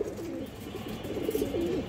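Close, low cooing from domestic fancy pigeons rolls on in repeated throaty phrases across the short stretch, steady over a soft background murmur.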